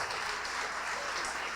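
Steady applause from a church congregation fills the whole clip, a dense, continuous clapping at close to moderate distance with no talk over it.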